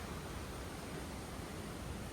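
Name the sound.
waterfall roaring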